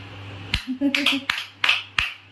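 A few sharp, scattered hand claps ring out in a domestic setting, spaced irregularly over a couple of seconds, with a voice murmuring between them and a low steady hum underneath.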